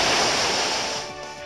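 Swampert's Waterfall attack in Pokemon Omega Ruby/Alpha Sapphire makes a loud, full rush of crashing water, a steady roaring wash that fades slightly toward the end, with no voices.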